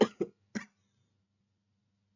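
A person who is unwell coughs three times in quick succession, close and fairly loud, then falls quiet apart from a faint click at the end.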